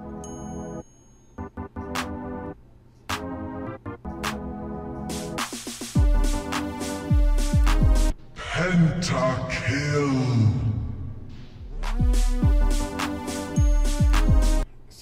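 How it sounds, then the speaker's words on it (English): Game music under a SoundManagerPro slow-motion effect in Unity, with the pitch and volume lowered together into a dragging, deepened passage midway before easing back up to normal, loud and alone. "you can do pitch as well, which adds a great slow motion sound effect"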